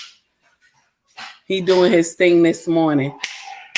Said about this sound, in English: I'm sorry for the background noise, y'all. That's my little dog.